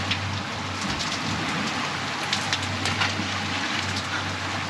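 Heavy rain pours down on a fishing boat off the Florida Keys, a dense steady hiss of drops drumming on the deck, with a low engine hum running beneath.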